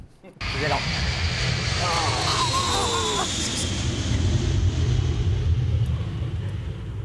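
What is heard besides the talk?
airplane flying overhead near Paris airport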